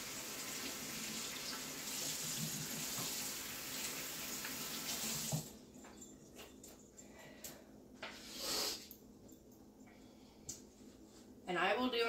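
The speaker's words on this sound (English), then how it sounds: "Wash our hands again." Water runs from a kitchen tap as hands are washed at the sink, a steady close splashing rush that stops partway through, followed by quieter handling sounds and a brief final gush.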